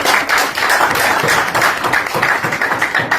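Loud, dense clapping from an audience at a business plan presentation, steady rhythmic applause filling the room with little talk.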